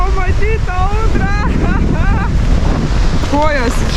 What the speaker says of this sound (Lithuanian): Kas norit pamatyti audrą?